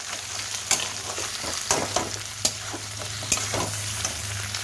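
Tomato, chili and spices sizzle in hot oil with fried onion and are stirred in a pan while cooking with bottle gourd. The frying hiss runs steadily, with close scraping stirs and sharp clicks of the utensil, and no voices.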